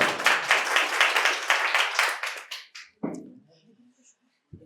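Loud applause at a quiz competition held at a medical college and hospital, rapid dense clapping from a crowd for about three seconds, then fading to a few scattered claps and quiet room noise.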